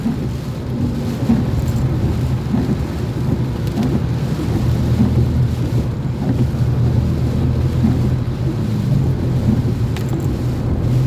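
Heavy typhoon rain pours in a steady roar under a dark sky with gusty wind rumbling against the microphone, continuous and loud throughout.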